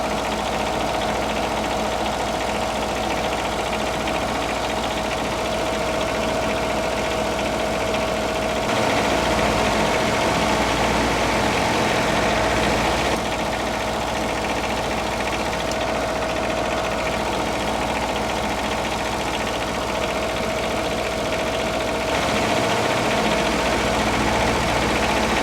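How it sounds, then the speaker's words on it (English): A Kohler KDW engine runs steadily while its speed is raised toward 1800 RPM to correct low voltage and low hertz. It gives a loud, close, continuous mechanical drone with slight shifts in pitch and vibration, and no one talks. "I'm going to increase my adjustment screw to increase my engine speed."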